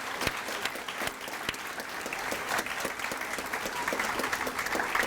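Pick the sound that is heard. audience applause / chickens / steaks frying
audience applause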